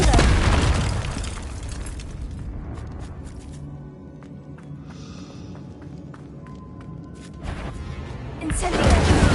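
In a Harry Potter video game, Confringo blasting spells go off as loud booming explosions, a big burst at the start and another swelling at the end, with crackling debris in between.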